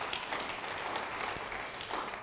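A church congregation applauds during a sermon, a soft, steady wash of clapping heard from a distance with no clear voices.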